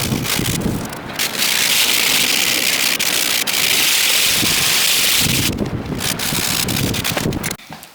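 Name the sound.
strong wind outdoors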